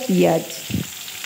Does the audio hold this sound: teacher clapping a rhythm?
no